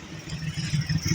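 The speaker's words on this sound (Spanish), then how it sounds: "También una moto." A motorcycle engine idling and revving with a low, throbbing rumble amid steady street noise in Caracas, Venezuela, growing slightly louder toward the end.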